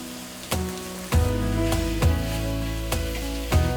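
Browned pork frying in a pan with hoisin sauce and coconut aminos gives a loud continuous sizzle, broken by five sharp spoon or pan knocks at irregular intervals.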